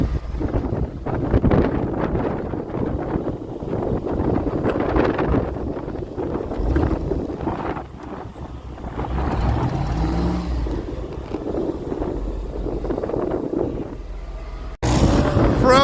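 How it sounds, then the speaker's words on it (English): Strong wind roars and buffets outside a vehicle stuck in deep snow, a continuous loud rushing with gusts that swell and ease, ending in a sudden louder blast. "The wind. I gotta bring up my window."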